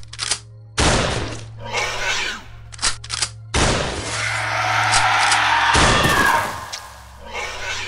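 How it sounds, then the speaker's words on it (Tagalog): Three loud shotgun blasts, well spaced and each with a long booming decay, ring out in a remote village in Negros. "3 sunod-sunod na malakas na putok ng shotgun ang narinig namin."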